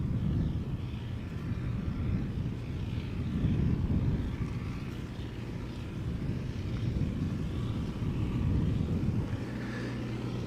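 An Airbus A320neo jet engine rumbles in a low, steady roar at a distance on departure from Amsterdam Schiphol Airport, swelling gently and holding with some wind buffeting, no voices present.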